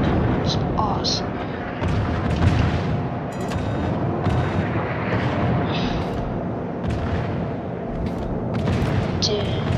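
Deep, booming naval gun blasts from a video game naval battle roll continuously at close range. Several players talk over the steady rumble of gunfire and explosions.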